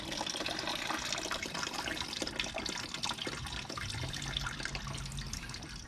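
Water drains steadily out of a clogged AC drain pipe, a close continuous splashing and trickling that stays fairly even throughout.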